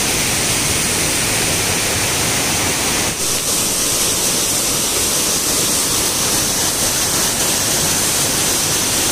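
A hidden waterfall near a Ganesh temple in Shirvande village gives a loud, steady roar of falling water. The rushing wash stays continuous and close throughout, with no voices.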